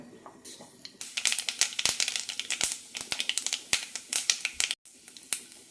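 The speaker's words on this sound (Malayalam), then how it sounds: "കടുക് പൊട്ടിക്കഴിയുമ്പോൾ ചുവന്നമുളക് ഇടാം" Mustard seeds popping in a teaspoon of hot oil, a dense close crackle of sharp pops coming thick and irregular after the first second, with a short break near the end before the crackling resumes.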